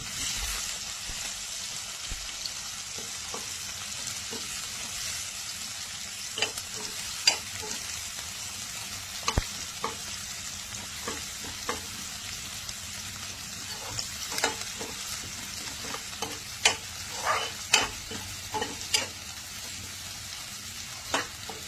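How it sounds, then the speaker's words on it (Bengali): Onions and green chillies fry in hot oil, a constant close sizzle broken by scattered clicks and scrapes of stirring, with no talking. "এবার পেঁয়াজটা ছেড়ে দিলাম তেলে। পেঁয়াজটা একটু লাল করে ভেজে নেব।"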